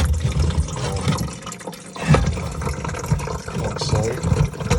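Water rushing and draining from a Geberit Sigma concealed toilet cistern after a full flush, a steady loud wash of liquid filling the clip with some handling noise and faint speech underneath.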